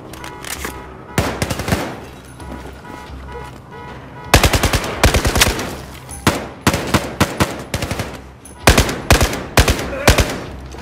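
Battlefield 4 machine gun fire crackles out in loud, close, rapid bursts, with repeated volleys separated by short pauses and the shots coming thicker and faster toward the end.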